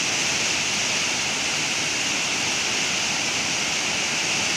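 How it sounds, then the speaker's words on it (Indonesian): Water rushing steadily through the Serepetan dam at Karacak, an old Dutch-built dam, as a loud, unbroken broadband roar like a waterfall that holds constant throughout with no voices. "pantauan airnya di bendungan Serepetan, mantap"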